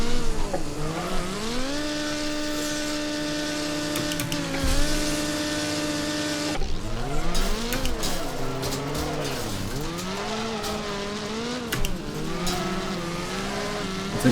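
A worn-out race car in Wreckfest strains up a slope, its engine droning steadily with rising and falling pitch as it labours, a gear change breaking the note partway through, loud and close throughout.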